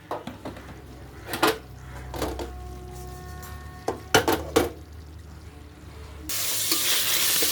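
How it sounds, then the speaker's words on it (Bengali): Beef fat and oil fry in a biryani pot over a simmering flame, a steady low sizzle broken by several sharp clinks and scrapes, then a louder hiss near the end. "চর্বিটা মোটামুটি ভাজা ভাজা হয়ে গেছে, দেখতে পাচ্ছ।"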